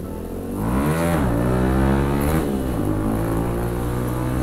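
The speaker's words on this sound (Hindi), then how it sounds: "तो साउंड काफ़ी लाउड आ रहा है बाइक का" A Bajaj Pulsar NS125 motorcycle with a loud aftermarket exhaust revs up hard, its engine note rising and dipping through a couple of throttle blips before holding a steady, close, loud drone.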